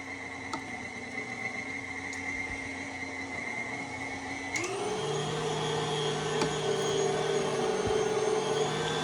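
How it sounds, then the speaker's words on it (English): A home meat grinder runs steadily while grinding venison, a loud continuous motor whine whose pitch drops and strains midway as the load increases, suggesting a clog, with no voices. "seems like my grinder is clogged."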